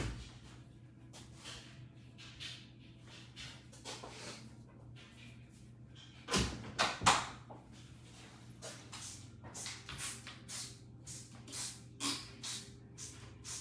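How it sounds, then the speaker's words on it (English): A handheld spray bottle sprays cleanser onto dyed silk, a run of short hissy bursts repeating at a steady rhythm over several seconds, fairly close and moderately loud, with faint handling shuffles between squirts. "Let me get a spray bottle so that I can spray this."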